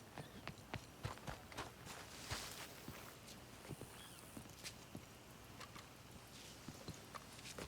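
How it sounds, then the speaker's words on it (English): Horse hooves clip-clop in a steady walking rhythm in Red Dead Redemption 2, quiet and fairly close, with faint rustling in the background. "Cavalo."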